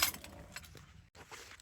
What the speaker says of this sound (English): And this is a lot of keys